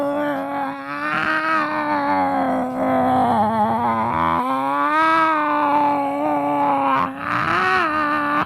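A man imitates a cat in heat, a long, continuous, wavering yowl that swells and dips in pitch for several seconds, loud and close, with only brief breaths breaking it.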